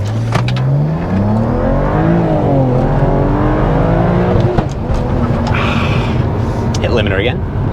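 A BMW with an N54 engine accelerates hard on a road, with rising revs climbing through the gears to bounce off the rev limiter. It is loud and close, with brief exclamations and voices over the engine.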